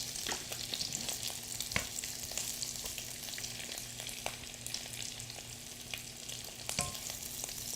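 Shrimp fry in hot oil for Bangladeshi shrimp fried rice, giving a steady close sizzle with scattered pops and clicks from stirring, and no voices.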